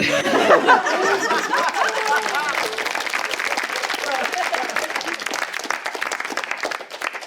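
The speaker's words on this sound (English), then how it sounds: "I feel like I may have applauded too early." Office team event audience applauding during a TaskMaster-style game, sustained loud clapping from a group mixed with chuckles and laughter, with voices talking over it early on.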